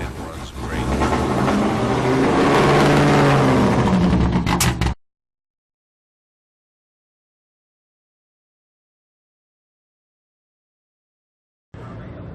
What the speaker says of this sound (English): he did take the time to start the car up and let us have a little fun listening to how it runs